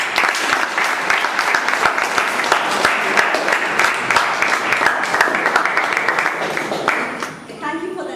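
A room full of people applauds loudly and steadily for several seconds, then the clapping fades out as a voice begins to speak.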